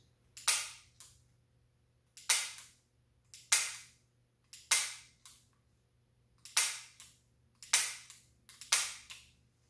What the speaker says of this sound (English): simply pull through the double action in one motion